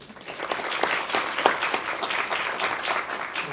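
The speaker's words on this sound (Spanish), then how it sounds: "te regalamos un aplauso" Audience applause welcoming a speaker onto a university campus stage, a dense, steady wash of many hands clapping close and fairly loud throughout, with no talk over it.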